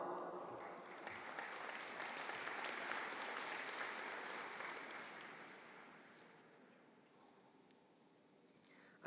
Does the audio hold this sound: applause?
yes